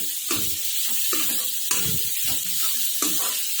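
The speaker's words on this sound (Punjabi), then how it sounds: "ਹੁਣ ਆਪਾਂ ਪਿਆਜ਼ਾਂ 'ਚ ਇਹਨੂੰ 5 ਮਿੰਟ ਭੁੰਨਾਂਗੇ" Ground spice masala for stuffed bitter gourd fries with onions in a pan: a loud, continuous sizzle broken by repeated scraping stirs at a steady rhythm.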